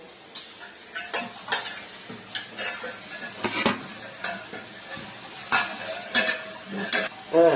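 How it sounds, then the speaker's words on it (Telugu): A spoon stirs curry in a pan, giving scraping and clinking strokes against the metal over a soft sizzle from simmering on low heat. The sounds are close and come in irregular bursts, with no talking. "కర్రీ ఇలాగ కలుపుకుంటూ కొంతసేపు ఆగుతూ ఉండాలి"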